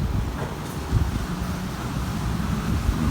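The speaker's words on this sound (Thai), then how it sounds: "ลมพัดมาเป็นบางครั้งครับกระโชกแรงเป็นบางครั้งครับ" Gusty wind blowing beside a house before rain, a steady low rumble of buffeting across the whole stretch with a brief stronger gust partway through, loud and close to the microphone with no talk.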